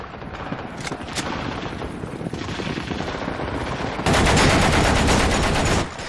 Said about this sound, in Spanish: la policía política emplaza sus ametralladoras